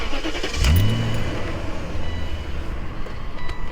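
A 2003 BMW 540i wagon with a V8 and manual gearbox starts with the key: a short starter crank, then the engine catches with a rising roar and settles into a steady, rumbling idle, close and loud.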